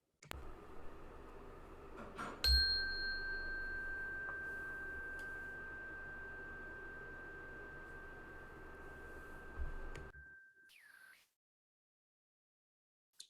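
A single bell strike rings out and sustains as a long, steady tone, slowly fading over several seconds before silence.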